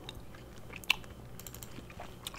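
Bubble gum being chewed close to the mic, with soft wet smacks and crunchy bites scattered over a quiet background and one sharper snap near the middle.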